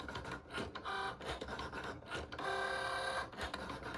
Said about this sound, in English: Close that clamp, and again, hit Go in Cricut Design Space.